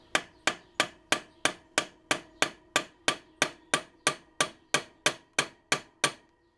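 A hammer gives light taps to barrel pins held in a vise. About seventeen sharp metallic strikes come at an even, quick rhythm, each ringing briefly, close and clear with no talk.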